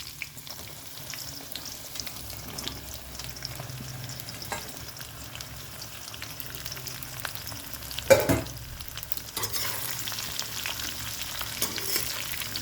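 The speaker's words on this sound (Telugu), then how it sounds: "ఇది నూనెలో బాగా ఫ్రై చేయండి, ఒక 5 మినిట్స్ వరకు" Bitter gourd frying in a pan of hot oil with garlic, a continuous close sizzle and crackle with occasional scraping and stirring sounds, no talking.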